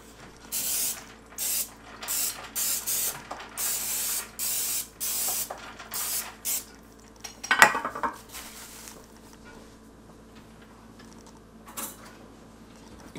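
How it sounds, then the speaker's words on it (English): Butter flavored Pam cooking spray hissing into a muffin tin in about eight short, regular bursts, close and clear, followed by a metallic clink of the pan and quiet handling. "Gonna give it a nice spray of our butter flavored Pam."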